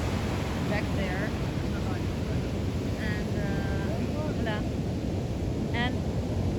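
Ocean surf rolls in at Santa Teresa beach, Costa Rica, as a constant heavy wash of waves with wind buffeting the microphone. Faint bird chirps come through now and then, and no one speaks.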